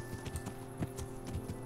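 Horse hooves clip-clop in steady rhythm in the medieval role-playing game Kingdom Come: Deliverance, a string of evenly spaced close thuds over a low hum of game ambience.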